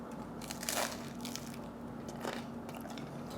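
Crunchy bites into bacon and cheese toast with garlic aioli, a Spanish tapa, two crisp bites close to the ear with chewing in between and no talking.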